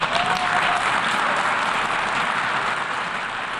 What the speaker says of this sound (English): Applause broke out the moment the result was flashed on the screens.